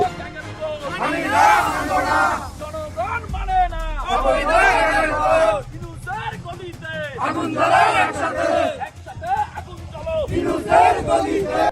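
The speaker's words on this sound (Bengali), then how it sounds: "ইতিমধ্যেই রাজপথে মিছিল নিয়ে তারা বিভিন্ন স্লোগান তুলছে" A large crowd of Awami League activists on a city street at night, torches in hand, chants slogans in loud, rhythmic surging waves, many voices shouting together with some babble between bursts.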